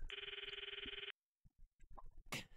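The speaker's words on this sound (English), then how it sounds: "I stopped the video and called Mayuri's phone from my address book." A phone call rings in the visual novel Steins;Gate, a loud electronic ring tone pulsing steadily for about a second before cutting off, followed by faint scattered clicks and a brief swish.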